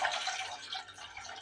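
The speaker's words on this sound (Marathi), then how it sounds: "आता आवश्यकतेनुसार तेवढं पाणी टाकायचं" Water is poured into tamarind pulp for a sweet-sour tamarind dish, a faint, steady trickling and splashing that continues for a moment with no talk over it.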